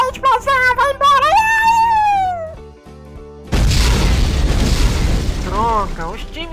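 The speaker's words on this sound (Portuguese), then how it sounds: "Destruição, TNT, explosão, vai tudo!" A TNT explosion in Minecraft, a sudden loud booming blast with a deep rumbling tail that erupts after a voice speaking in a sing-song, exaggerated way, with more voice returning over the fading rumble.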